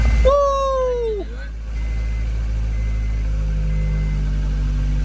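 An Acura Integra GSR engine keeps running just after starting, a steady low hum that continues after a short excited vocal whoop at the start.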